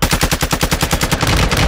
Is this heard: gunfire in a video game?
yes